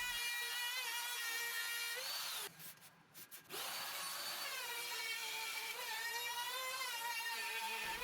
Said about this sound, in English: This pass cut a rabbet along the inside edge of the panel, which will house the activity boards.